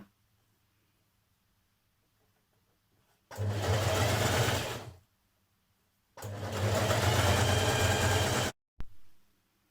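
A sewing machine stitches seams on a jersey top in two loud whirring bursts of a couple of seconds each, separated by quiet pauses, with a short final stitch burst at the end.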